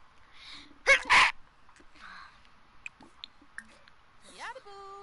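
A Sims character in The Sims 4 gives one sharp, loud sneeze near the start, followed by soft simlish chatter and small game interface chimes.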